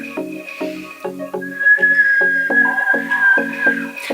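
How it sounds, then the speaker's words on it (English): A person whistles a sustained, wavering tone that starts about a third of the way in and carries on to the end, close and fairly loud over a steady background of rhythmic, pulsing tones. "Can you whistle?"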